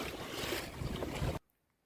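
Wind and water rush steadily around an Argie 15 dinghy sailing on the open sea, a broad close wash that cuts off abruptly after about a second and a half.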